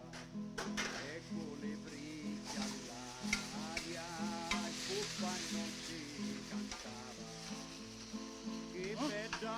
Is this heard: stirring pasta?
yes